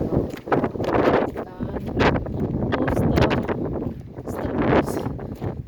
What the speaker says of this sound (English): And wind blows.